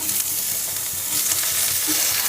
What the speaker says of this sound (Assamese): এবাৰ ইয়াতে কাটি থোৱা পিঁয়াজ আৰু জলকীয়া দি দিছোঁ